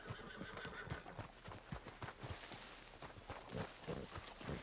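Horse in the Red Dead Redemption 2 video game whinnying while its hooves clip-clop steadily and close throughout, a continuous run of hoofbeats under the neighing.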